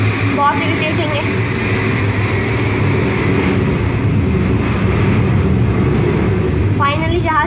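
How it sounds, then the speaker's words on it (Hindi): In a battle royale video game, an airplane drones overhead as a steady, continuous engine hum that stays loud and constant from start to finish, with brief electronic game sound effects at the start and end. "आवाज़ आएगी थोड़ी सी जहाज़ की"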